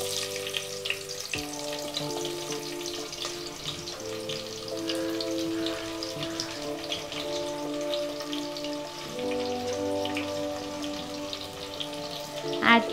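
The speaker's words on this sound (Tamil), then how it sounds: "இது ஒரு வதக்குனதுக்கு அப்புறம் நம்ம நறுக்கி வச்ச வெங்காயத்தை ஆட் பண்ணிக்கலாம்." Chopped onions hiss and crackle in hot oil for mushroom biryani, a constant close sizzle throughout, with a sustained musical tone running underneath and a stirring scrape near the end.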